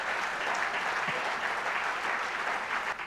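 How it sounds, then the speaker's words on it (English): Audience applause fills the room at a corporate business leaders awards night in Jamaica, a dense, steady wash of many hands clapping together for the whole stretch, fairly loud and close. "Clap yourself, man."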